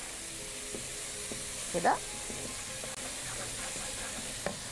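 Minced garlic sizzling in a pan while being stirred for risotto, a steady hiss with a short scraping stir near the middle and a few clinks; a brief spoken word is heard.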